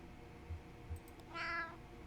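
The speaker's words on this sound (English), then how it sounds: "Chatty meow." A house cat gives a brief, faint meow, quiet and somewhat distant, following two soft low thumps in a calm indoor room.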